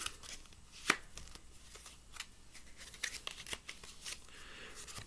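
Playing cards handled in an advanced false cut, giving a series of crisp snaps and riffling slides, one sharp snap near the start followed by quicker soft clicks, close and clear with no talking.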